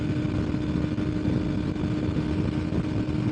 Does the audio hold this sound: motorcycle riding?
yes